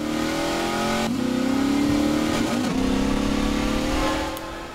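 In the Half-Life 2 video game on Xbox 360, a vehicle engine revs loud and close, a steady droning whine that climbs in pitch, dips briefly, then rises again.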